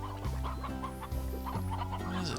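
Chickens cluck in a run of short, close, repeated clucks in the Slime Rancher video game, steady and moderately loud over a background music bed with no talking.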